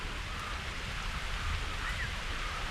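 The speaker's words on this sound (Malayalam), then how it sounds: "നല്ല മഴ" Steady heavy rain pours down in a broad, even hiss with no let-up, close and constant, during an outdoor fishing outing in Kerala; no voices are heard.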